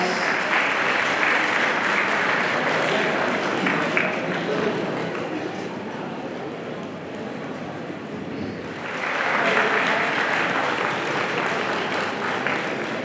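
An audience at a school annual function fills the hall with continuous broad applause that dips slightly midway and then swells again, steady and fairly loud throughout.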